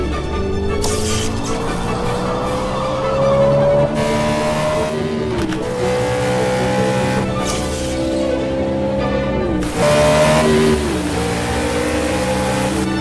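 Racing cars roar past continuously, engines revving high and shifting gears, loud and close, with a brief tire squeal.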